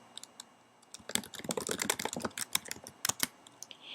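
Quick, uneven keystrokes clatter on a computer keyboard while an email address is typed into a sign-up form, with the bursts of clicks close and fairly crisp and short pauses between them.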